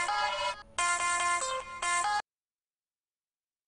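A mobile phone plays a ringtone for an incoming call from a mother: a bright melodic tune in a few short phrases that stops abruptly, followed by silence.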